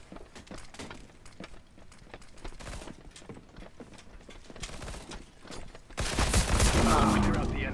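Light machine gun fire in a video game, dense rapid bursts of close shots with clattering mechanical action, building into a louder, sustained roar of sound near the end.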